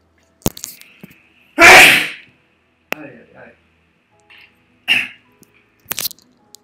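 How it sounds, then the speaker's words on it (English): A single loud sneeze burst close to a desk microphone, preceded and followed by a few small clicks and short breathy throat noises, otherwise quiet room. "I sneezed very loudly"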